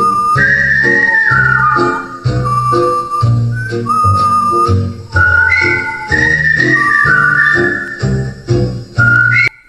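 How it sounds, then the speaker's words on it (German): Someone whistles a lively melody, loud and close, with clear sustained and sliding tones and short breaks between phrases. "Wenn ihr mal pfeift."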